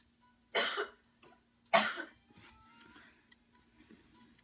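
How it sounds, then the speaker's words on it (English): Two sharp coughs close by, spaced about a second apart, followed by faint rustling and low background noise. "Sorry, I have to cough."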